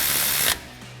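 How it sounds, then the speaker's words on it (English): A ratchet with a 10mm socket clicks steadily as it tightens a bolt on a factory front upper control arm of a Toyota 4Runner, the dense close-up mechanical chatter running for half a second and then stopping abruptly. "we'll tighten that down again with our 10mm socket on our ratchet"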